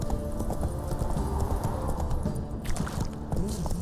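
Roach the horse gallops in The Witcher 3, hooves clopping in a quick steady rhythm close by, with a brief faint voice underneath.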